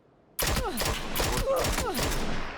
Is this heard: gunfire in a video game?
yes